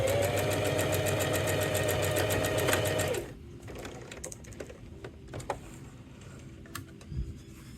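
A sewing machine stitches a plant pot holder, running loud and steady for about three seconds before stopping abruptly, leaving faint handling clicks.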